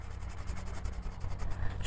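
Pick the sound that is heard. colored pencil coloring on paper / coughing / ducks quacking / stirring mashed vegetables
colored pencil coloring on paper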